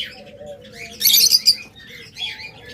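Pet lovebirds and budgerigars chirp in a cage, a bright burst of overlapping tweets in the middle with softer calls and a faint flutter around it. The sound is close and lively, and no one speaks.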